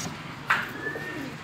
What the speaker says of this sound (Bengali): এ হচ্ছে লর ম্যাট্রাজ কবুতর